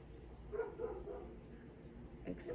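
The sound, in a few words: dog barking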